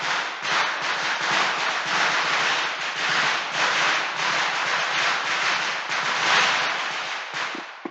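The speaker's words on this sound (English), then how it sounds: "Everyone loves fireworks." Fireworks crackle and burst in a dense, continuous loud barrage of pops and hiss over several seconds, with no voices.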